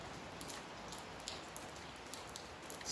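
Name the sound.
rain falling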